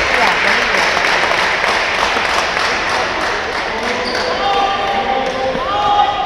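Applause ripples through the crowd at a Greek women's basketball game, a dense, steady clatter of clapping that continues throughout, with a voice speaking over it.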